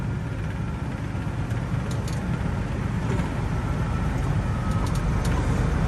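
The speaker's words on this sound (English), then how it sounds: "Oh, we got it in gear." A vehicle engine runs steadily while driving in gear, a dense rumble heard from inside the cab with constant road noise and no pauses.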